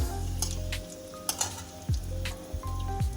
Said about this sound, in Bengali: লবঙ্গ এলাচ রয়েছে আমি দিয়ে দিচ্ছি এগুলো তেলের মধ্যে একটু নাড়িয়ে নিলাম